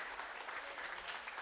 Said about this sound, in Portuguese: Dê o melhor aplauso porque é para Jesus